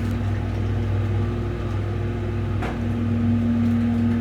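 A steady, low hydraulic elevator motor hum drones without pause, with a faint whine layered on top.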